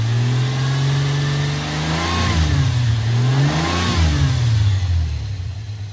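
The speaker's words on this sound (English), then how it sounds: "It definitely sounds like it has a misfire now though." Drift car engine with a misfire revving at an event, a loud nearby engine note that climbs and dips in two uneven rev sweeps over a steady rumbling idle.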